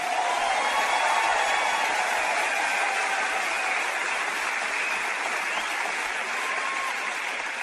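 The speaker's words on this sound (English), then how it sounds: "if you're going to clap, don't patty cake." Sustained applause from a large church audience, a dense steady wash of clapping that holds loud and even throughout with no break.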